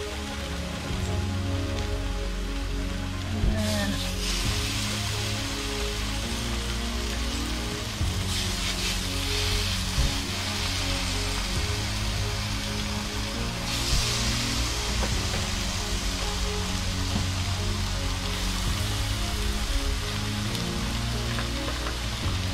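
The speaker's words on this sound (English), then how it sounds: "look at putting the bacon on" Fat-free bacon medallions fry in a pan, a constant crackling, rain-like sizzle with a steady low hum beneath, continuous and fairly close for the whole stretch.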